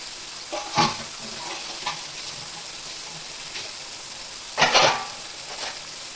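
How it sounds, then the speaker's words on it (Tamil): Masala-marinated elephant foot yam pieces spread out to fry in a pan over medium-low heat, a steady crackling sizzle with a few louder bursts and scrapes as pieces are moved, no speech. "இப்போ மசாலாவில் ஊறின சேனக்கிழங்க இந்த மாதிரி பரவலாக போட்டுக்கலாம்"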